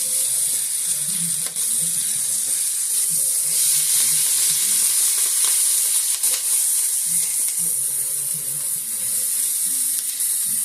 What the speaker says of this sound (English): Let that cook in with the meat.